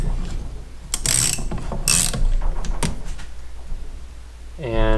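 Crankshaft of a 1974 Honda MT250 engine being slowly cranked by hand on the bench, giving a few loud ratcheting, clunking mechanical bursts with quieter scraping between them and a brief voice at the end.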